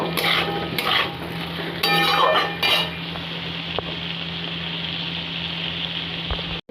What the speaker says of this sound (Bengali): নুনটা দিয়েও ভালো করে এবার নেড়ে নেব